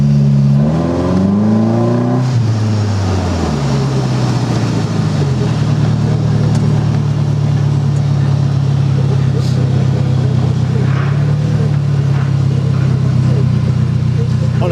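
Small four-cylinder engine of a 2013 UNIT Thoroughbred Stallion motorcycle with cherry bomb mufflers, revving up and down close by at first, then settling into a loud, steady rumbling idle.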